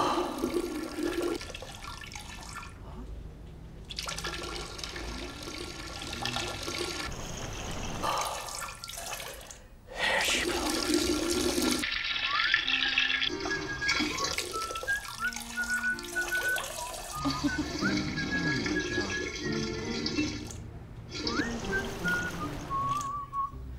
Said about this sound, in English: Just waiting for you to flush, mate.